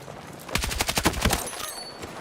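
SG 552 carbine firing in the shooter video game Battlefield 6: a rapid burst of about a dozen close, loud shots in quick automatic rhythm, fading into a short ringing tail.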